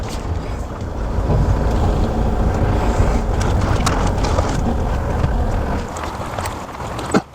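A retro car's engine runs steadily while the vehicle is moved, a low rumble with wind buffeting on the microphone and a brief thump at the end.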